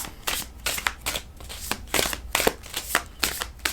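Tarot cards being shuffled by hand, a rapid run of soft riffling bursts repeating about every half second, close and clear with no talk.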